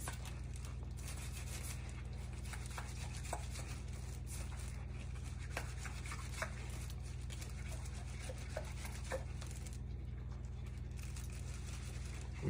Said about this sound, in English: Now we're going to just scrub the outside.